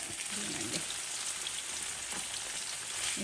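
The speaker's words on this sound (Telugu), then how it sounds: "ఇప్పుడు ఈ పన్నీర్ని 2 ముక్కలు చేసేసి ఫ్రై చేస్తానండి." Paneer pieces sizzling as they fry in a pan, a steady close crackle with rain-like spattering and no talk.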